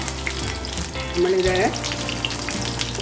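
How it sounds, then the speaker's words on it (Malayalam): Chicken pieces for chilly chicken frying in hot oil, a dense continuous sizzle close to the pan, with a brief spoken word and a short tonal squeak partway through. "2-3 പ്രാവശ്യമായിട്ടേ നമുക്കിത് വറുത്തെടുക്കാൻ പറ്റുള്ളൂ."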